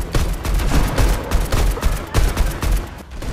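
Rapid bursts of gunfire in Fortnite on the Nintendo Switch, with repeated sharp shots cracking in quick uneven clusters throughout, loud and close with no talking.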